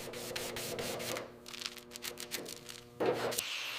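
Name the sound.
sanding rusty metal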